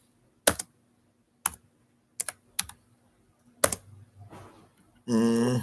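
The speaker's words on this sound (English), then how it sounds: "I'm gonna type in this real quick" Computer keyboard typing in short separated bursts of clicks, close and crisp, with quiet gaps between them and a louder sustained noise at the end.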